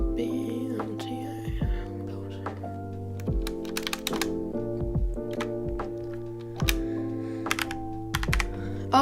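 Keys clatter on a computer keyboard during flight simulator setup, with irregular bursts of clicks and thunks over several seconds, close to the mic and steady in level.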